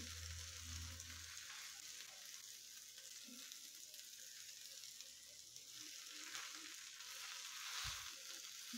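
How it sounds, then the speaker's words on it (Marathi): Pav bread buns toast on a hot pan with butter and masala, a soft, faint, steady sizzle under a low hiss, with a brief low knock near the end and no voices. "तर पाव व्यवस्थित परतून घ्यायचे, गरम करून घ्यायचे दोन्ही साईडनी"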